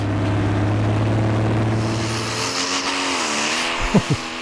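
A Pro Stock drag racing car leaves the line at full throttle at a 2008 European Championship event, its engine a loud steady roar that climbs sharply in pitch as it launches, with a few thumps near the end.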